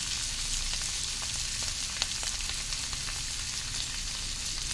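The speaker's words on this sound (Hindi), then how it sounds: "और इनको हम थोड़ा सा गोल्डन ब्राउन करेंगे, फ्राई करेंगे।" Sooji-coated herb potatoes fry in a pan, a steady close sizzle of hot oil that holds even throughout, with a few faint crackles and one small tap partway through.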